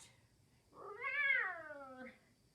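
A person imitates a cat, giving a single drawn-out, rising then falling meow, fairly faint and alone in a quiet room.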